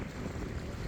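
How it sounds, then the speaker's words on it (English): Strong wind buffeting an outdoor microphone on a catfishing trip by the water, a continuous loud rushing roar with no pauses. "it's wind's blowing so hard that it's knocking the camera over"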